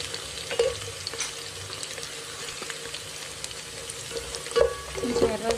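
Onions and whole spices (cardamom, pepper, cinnamon, cloves) frying in a pot for chicken biryani, a low steady sizzle with a few brief stirring clatters and scrapes, close up and without speech.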